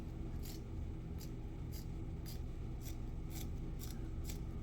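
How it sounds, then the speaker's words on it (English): Curved scissors cut along the edge of a table tennis rubber sheet during paddle assembly, a series of about eight faint crisp snips at a steady rhythm over low background hiss. "You just go along the edges with this curved scissors."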